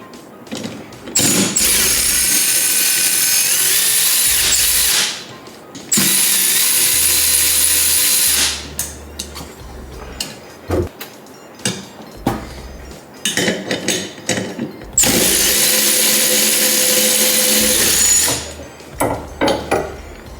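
Socket wrench working loose the cover bolts over a stock fuel line, heard as close, repeated metallic ratcheting bursts alternating with short clicks and tool clatter, no talking.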